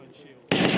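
Crew-served weapon firing fully automatic on a live-fire range, a quiet lead-in and then a sudden loud, continuous burst of rapid shots up close.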